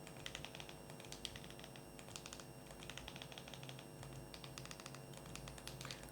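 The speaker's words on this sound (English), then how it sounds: "now in the search bar we'll need to start typing a second link" Quiet, rapid tapping on a computer keyboard in short bursts, faint and close, with a steady background hum and no voices.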